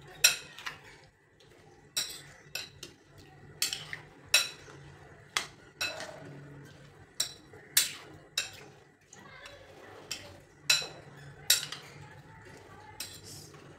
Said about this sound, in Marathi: तर आता दुसऱ्या दिवशी आपल्याला साखर टाकलेली हे मिक्स करून घ्यायची आपली कँडी.